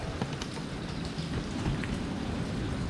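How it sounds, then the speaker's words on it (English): Steady rain falls continuously on a surface, a dense broadband patter without pause. It is heard outdoors on a farm and no voices are present. "still got a lot of rain"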